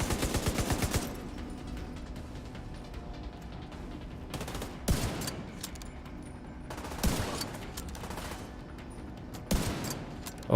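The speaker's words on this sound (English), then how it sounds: "This is a great room to defile with large numbers of high caliber bullets." High-caliber gunfire in The Division 2: an opening rattle of rapid automatic shots, then heavy single reports and short volleys at intervals over a constant background hum.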